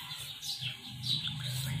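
Birds chirp in a garden with guava and other fruit trees, high bright tweets repeating over a soft low background murmur, moderately near and steady.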